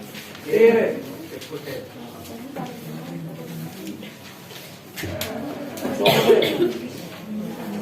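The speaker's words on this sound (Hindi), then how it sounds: "खांसी उठ रही है" A person coughs twice, once early and again later, amid ongoing talk in a small room.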